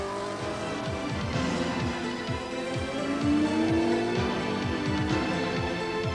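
Tamiya Bearhawk rear-drive RC car with a 540 motor driving in a 1993 promotional piece, rapid repeated whirring sweeps of the electric motor with a higher whine, steady and close over busy background music.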